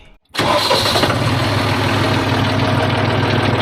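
An engine on a hay mower setup that spent time more than ten feet underwater fires up abruptly after a brief silence and settles straight into a loud, steady run with a faint knock.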